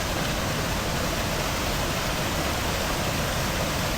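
A beautiful waterfall pours in a constant, dense roar of falling water, loud and unbroken throughout with no voices over it.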